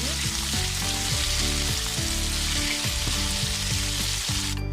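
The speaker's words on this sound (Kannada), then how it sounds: "ಜೀರಿಗೆ ಮತ್ತು ಸಾಸಿವೆ ಚೆನ್ನಾಗಿ ಫ್ರೈ ಆಗಿರ್ಬೇಕು ಹಾಕಿ ನಂತರ ಮಿಕ್ಸ್ ಮಾಡ್ಕೋಬೇಕು" Cumin and mustard seeds fry in hot oil before potatoes are mixed in, a constant close sizzle running throughout, with a tonal musical backing underneath and no speech.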